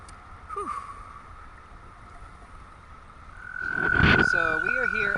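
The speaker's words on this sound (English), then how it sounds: "So we are here at a frog orgy. Look at this frog orgy." Frogs croak by the Beaverkill River in spring, rising to a dense, gurgling chorus over steady flowing water, with a brief voice early on.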